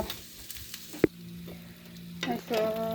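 Chopped onions fry quietly in a pan: soft, patchy sizzling with sharp crackles and a few clinks, gaining a little in loudness near the end.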